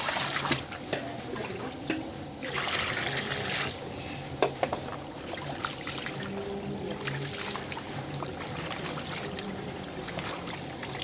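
Cleaned anchovies are washed by hand in water, with close sloshing, swirling and trickling that rises and falls in uneven surges throughout.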